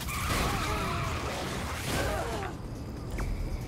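A vehicle drives and skids in Saints Row 4, with a continuous engine rumble and several squealing tire slides, under background talk.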